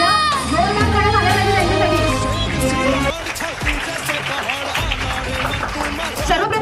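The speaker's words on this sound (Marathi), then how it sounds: "जोरदार टाळ्या झाल्या" Students and guests at a school Shivaji Maharaj Jayanti celebration give loud applause and cheer. Tonal music plays first, then gives way to a dense wash of clapping, crowd noise and children's voices.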